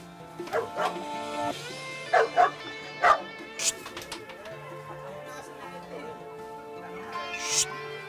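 Several dogs bark, yip and whimper in a street setting in Tondo, Manila, with short sharp barks in bursts and higher whines, close by and loud, while someone talks over them.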